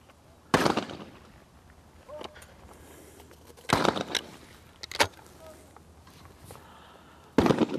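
Shotgun fire at doubles trap targets: sharp loud blasts in close pairs and singles spread across the stretch, each ringing out briefly before quiet returns, with faint handling noise between.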